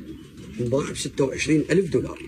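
An Iraqi homing pigeon coos in short soft throaty bursts close by, while someone talks over it.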